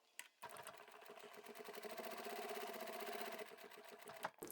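A sewing machine runs continuously as it stitches a small fabric tab with a quarter-inch seam for a tissue holder, a fast, even mechanical whirr rising after a brief start and stopping abruptly at the end.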